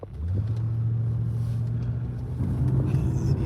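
A truck rumbles close by with a steady low engine drone, its pitch stepping up partway through as it moves past, with no voices heard.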